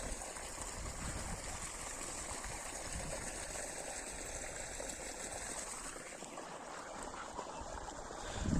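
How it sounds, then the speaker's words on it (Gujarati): Irrigation water runs steadily through a field channel toward cotton and wheat plots in a continuous gentle rushing and trickling flow, quiet and unbroken throughout. "અહીંથી કપાસના ક્યારામાં થાય અને ડાયરેક્ટ પાણી જાય ઘઉંના ઓલામાં"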